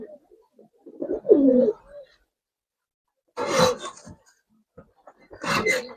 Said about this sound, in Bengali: একে সম্পূর্ণ লাড্ডু কালার একটা কবুতর ভাই